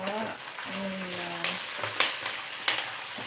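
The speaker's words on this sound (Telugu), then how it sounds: "సో మనం ఈ స్టేజ్లో వేసుకుంటే మునగాక అనేది మంచిగా ఫ్రై అవుతుంది" Drumstick (moringa) leaves frying in a pan with salt, giving a steady broadband sizzle with a few sharp crackles and stirring scrapes, close and moderately loud, no talking.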